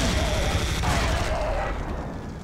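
Cannonballs exploding in the Serious Sam video game: a dense, continuous rumble of blasts and gunfire-like bursts that stays loud across the whole stretch, with voices mixed in.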